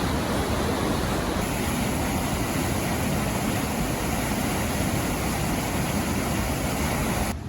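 Water rushes through Rogue Gorge near waterfalls on an Oregon trail, a loud, unbroken broadband roar like heavy surf that stays constant and close throughout, with no voices.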